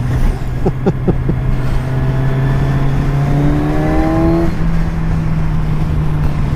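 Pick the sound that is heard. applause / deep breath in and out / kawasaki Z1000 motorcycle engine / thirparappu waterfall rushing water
kawasaki Z1000 motorcycle engine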